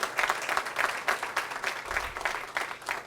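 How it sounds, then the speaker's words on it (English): Audience applause for Bob Stewart at a Louisville tourism announcement: a short burst of many hands clapping in uneven surges, moderately loud and close, with no talking over it. "Let's give him a round of applause"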